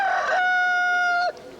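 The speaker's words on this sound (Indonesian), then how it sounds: "Ya, itu tadi adalah suara ayam berkokok." A rooster gives a single clear, loud crow with a rising start, a long sustained middle and an abrupt end, close by and with no voices over it.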